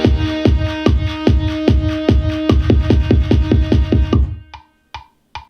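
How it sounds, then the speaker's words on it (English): Programmed kick drum pattern built in GarageBand for a trap-style beat: loud, booming electronic kicks repeat steadily, then speed up into a faster run before stopping, with a few sparse hits trailing at the end; no voices. "you want to go into the edit mode on your kick and add a kick like this"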